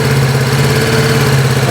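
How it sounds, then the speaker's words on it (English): A motorbike engine idles steadily during a pre-ride check, a loud, even, close rumble with a constant hum and no voices. "So let's just start the bike up."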